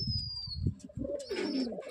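Pigeons coo softly nearby in a short, throaty burst, with a thin high chirp mixed in among the birds.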